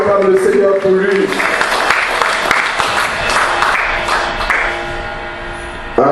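A church congregation acclaims and applauds, sustained loud clapping mixed with cheering voices that rolls on for several seconds and slowly eases, with talk heard over the applause.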